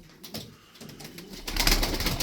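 Tumbler pigeons coo softly at close range, a faint low murmur growing slightly louder toward the end, with no voices.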